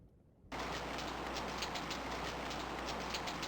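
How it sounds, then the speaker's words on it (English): Steady rain hiss in the video game King's Quest VI switches on abruptly after a brief quiet moment, then holds as a dense, even patter with no other sounds. "It starts to rain."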